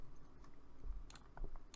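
Quiet, quick computer mouse clicks while managing a football team in a soccer management game, a few light taps in an uneven rhythm, close and soft.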